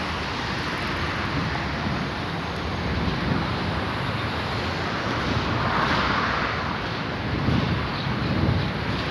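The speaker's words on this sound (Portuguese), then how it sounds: "aqui pega um pouco mais de vento porque tem turbulência no meio dos edifícios" Gusty wind rushing between city buildings on a cold, clear day in Porto Alegre, a steady broadband roar with slight swells throughout, close to the microphone and with no voices.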